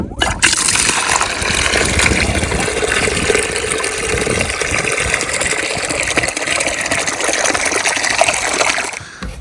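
Outdoor faucet running water for chickens on a snowy, icy homestead, a steady loud gush pouring without pause for about nine seconds, close by, with no voices.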